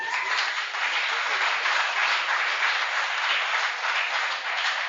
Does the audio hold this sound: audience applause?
yes